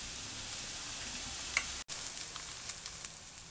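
Onion and garlic sautéing in olive oil for a shrimp filling, a steady close sizzle with a few small pops, briefly cut out midway.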